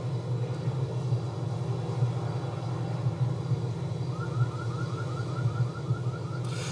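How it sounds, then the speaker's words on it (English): Helicopter drone and a wailing siren outdoors, a steady low rumble throughout with a faint rising and falling siren tone entering in the latter half, distant and alone. "now there's a helicopter and a siren or whatever going on"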